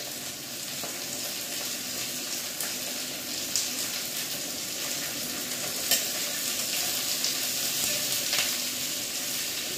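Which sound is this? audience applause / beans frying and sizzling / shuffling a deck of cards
beans frying and sizzling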